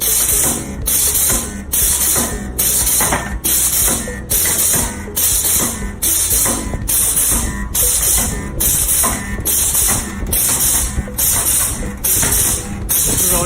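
An Electroweld 100 KVA press-type spot welder runs in repeat mode, firing loud, evenly spaced bursts of hiss and clunk roughly every second, one after another, over a steady mechanical background.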